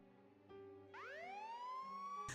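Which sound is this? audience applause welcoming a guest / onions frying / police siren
police siren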